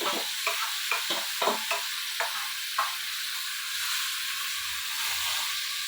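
Meat dropped into a hot pan of fried new potatoes, a steady close sizzle and hiss with several scraping stirs near the start, settling into continuous frying with no talking.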